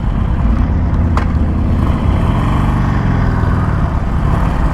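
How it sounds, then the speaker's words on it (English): A Harley-Davidson Iron Sportster 1200 motorcycle on a test ride, its engine a loud, steady, low rumble mixed with rushing wind noise close to the microphone throughout, with no talking. "So we're on the Iron Sportster 1200, taking a test ride now."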